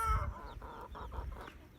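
Young chicks cluck in a quick run of short, throaty calls, close by and fairly soft, with a few higher chirps mixed in.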